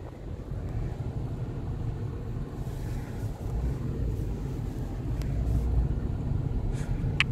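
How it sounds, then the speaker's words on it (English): Steady low rumble of a 2022 Toyota Corolla driving, road and engine noise filling the cabin continuously and growing slightly louder toward the end, with a brief click near the close. "We are driving."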